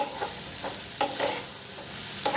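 Tamarind fried with garlic and coriander in a pan for a ridge gourd chutney: a quiet, even sizzle broken by several distinct spatula scrapes, with no voices.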